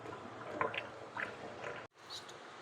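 Water drains and squishes out of a washed uniform, wet gurgling drips and squelches close by, with a brief cut partway through.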